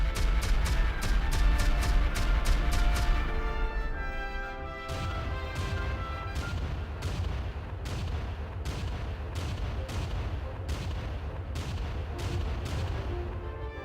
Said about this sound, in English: The French artillery continued firing.